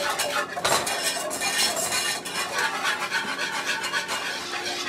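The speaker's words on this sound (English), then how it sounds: "we're just going to stand here and whisk away for about the next 3 minutes" A whisk scrapes and clinks continuously against a pan while stirring a roasted banana pudding mixture, a busy metallic rubbing rhythm close by with no talking.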